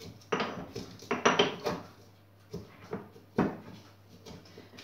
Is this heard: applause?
no